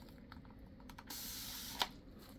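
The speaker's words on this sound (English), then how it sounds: "And then let's just give that one more quick spray." A quick spray burst over a freshly shaped free-form bowl, a short hissing band of mist lasting about a second, fairly close and soft, ending in a small sharper puff amid faint background noise.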